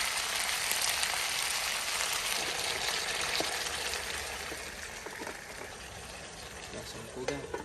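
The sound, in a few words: food frying in a pan after soy sauce is added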